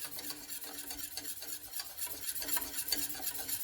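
Pastry cream mixture stirred in a saucepan over heat, a steady whisk or spoon scraping the pan bottom in quick repeated strokes with a faint bubbling sizzle, close and fairly quiet, no voices.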